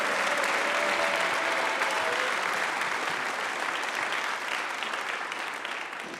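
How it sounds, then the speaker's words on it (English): A school chapel audience applauds a math team that placed second at a state tournament, sustained crowd clapping filling the room and slowly fading toward the end. "Give them a round of applause."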